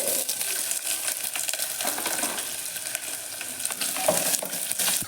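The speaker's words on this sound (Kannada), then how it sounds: "ಸ್ವಲ್ಪ ಹೆಚ್ಚಿಟ್ಟಿರೋ ಈರುಳ್ಳಿನ ಆ್ಯಡ್ ಮಾಡ್ಕೊಳ್ಳಿ" Chopped onions frying in a pan as the base for a bitter gourd gravy: a close, continuous crackling sizzle with irregular pops and stirring scrapes, fairly loud and without talk.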